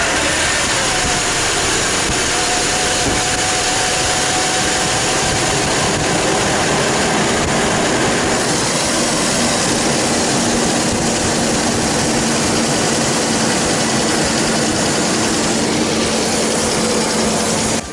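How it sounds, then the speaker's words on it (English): Ford Explorer 4.0 OHV engine running after its fuel injectors were removed and cleaned, a loud, steady, broadband roar holding without a break, close to the microphone. "then we start the engine"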